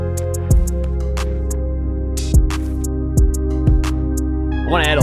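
Sustained synth chords from the Ocean Swift Porphyra hybrid wavetable synth play alone over a beat, with loud punchy drum hits landing every second or so and a brief bright flourish at the end.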